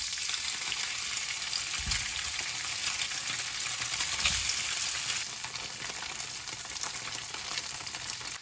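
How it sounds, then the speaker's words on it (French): Tofu frying in a pan, a steady loud sizzle throughout with a couple of low knocks from stirring or moving pieces. "Et là, la partie qui me terrifie, c'est qu'on va maintenant frire le tout."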